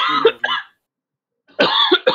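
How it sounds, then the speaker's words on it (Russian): A man coughs in two bursts separated by a stretch of silence, the second longer and rougher, heard up close and alone. "еще покашлялся"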